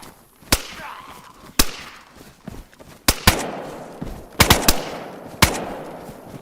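AK rifle fire in DayZ, sharp single shots cracking out at irregular intervals with a few quick doubles, each followed by a short echoing tail, moderately loud.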